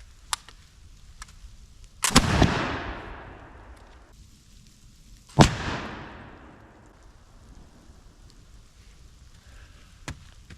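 A flintlock musket loaded with a .69 or .71 caliber ball fires twice, each shot a sharp, loud bang with a long rolling decay, separated by a few seconds of quiet outdoor ambience.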